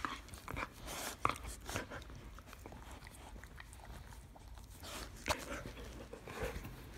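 A giant dog chews and gnaws at close range, producing irregular wet clicks and crunches mixed with soft panting, all fairly quiet against a faint background.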